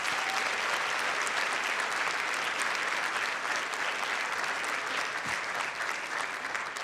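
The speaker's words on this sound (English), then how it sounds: "Let's give all these young people and their teachers a round of warm applause." Warm, sustained applause from a school-district audience honoring young people and their teachers at a State of the District event, steady and dense crowd clapping throughout with no voices.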